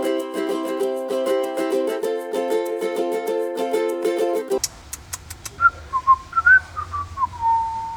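Someone whistles a short wavering tune alone, following a stretch of steady tonal music that stops abruptly.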